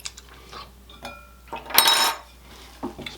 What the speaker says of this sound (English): in here then I'm going to spread our coconut mixture.